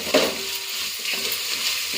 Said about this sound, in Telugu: పుదీనా అన్నీ మంచిగా కలుపుకోవాలి.